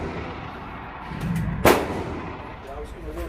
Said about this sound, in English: is going to be shooting, these big, scary assault rifles.